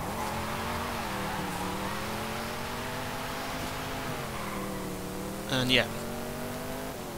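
A 1966 Chevrolet Nova Super Sport muscle car in the racing game Forza Horizon 5 accelerates with a sustained engine drone that rises and falls through the revs, and a brief sharp burst near the end, while a voice says a single word.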